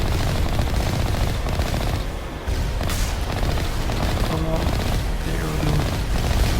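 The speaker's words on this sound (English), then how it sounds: "Okay, they're firing quite a lot of rockets this time." Rockets and heavy weapons fire in rapid, overlapping bursts during a Mass Effect Legendary Edition battle in the Bring Down the Sky mission, loud and continuous with booming impacts, a brief dip midway, and a voice talking over the barrage.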